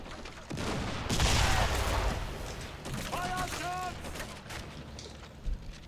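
A 75mm gun firing in a World War II strategy video game, a heavy booming blast with rumbling battle noise around it, followed by quieter mechanical chirps and distant gunfire.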